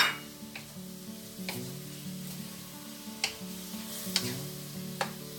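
Carrots and baguio beans sauté in a pan for bihon guisado, giving a steady sizzle and crackle with occasional sharp spatula scrapes and taps against the pan, close by and without talk.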